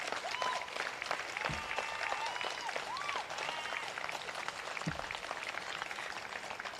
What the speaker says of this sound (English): Please give a huge round of applause to Assistant to the President,